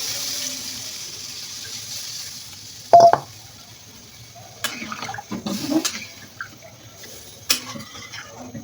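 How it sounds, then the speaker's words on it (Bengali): Water is poured into a fish curry for the gravy as one short splash, followed by scattered soft kitchen clatters and handling noises in a quiet room. "এখন আমি পরিমাণ মতো ঝোলের পানি দিয়ে দেবো।"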